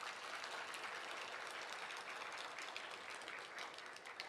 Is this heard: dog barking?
no